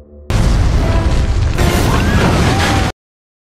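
A film-scene explosion in a town: a loud, sustained roaring blast of about two and a half seconds with crackling debris and a second surge midway, cutting off abruptly to silence.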